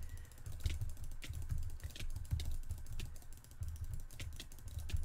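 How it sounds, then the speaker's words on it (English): Computer keyboard keys clicking in quick irregular bursts during a PvP match in a Minecraft Cosmic factions server, close and steady with no talking. "sorry about the clicking and the all kinds of noises"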